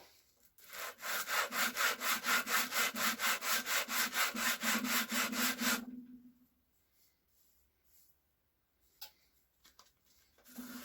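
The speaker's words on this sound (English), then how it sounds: "I'll cut this piece and then I'll show you." Hand saw cutting a piece of wood for a guitar build, a fast run of about twenty even back-and-forth strokes that stops abruptly, then a few faint scrapes and taps close by.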